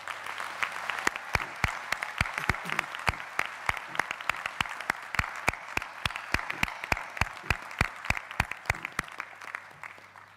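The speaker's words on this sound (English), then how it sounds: "give them a heartfelt, congratulatory applause for a job incredibly well done over the week." An audience at a university graduation ceremony applauds, a dense crowd of hands clapping steadily for about ten seconds before tapering off.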